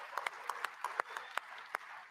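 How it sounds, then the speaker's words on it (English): Light audience applause at a live conference event, a sparse patter of claps with a few distinct louder hand strikes, brief and fairly quiet. "Round of applause."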